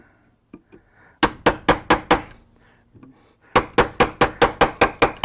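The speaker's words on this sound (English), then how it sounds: "You want to go where that line cut you did, see, and kind of gouge it out a little bit." A chisel is struck repeatedly to gouge out the nut slot on a wooden cigar box guitar neck, heard as two runs of sharp, evenly spaced taps close by, with quiet handling sounds between them.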